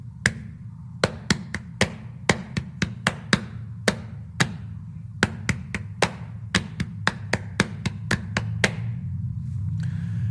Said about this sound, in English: we tap the rhythm with our hands